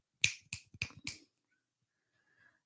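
Four crisp finger snaps come in quick, fairly even succession, close and sharp, and then there is near silence with only a faint trace of sound.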